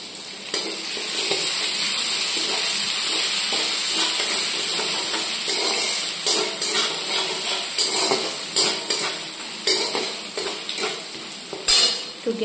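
Ginger paste frying in hot oil gives a continuous close sizzle and spatter, overlaid with frequent scraping and stirring knocks from a utensil that grow more irregular toward the end, with no talk.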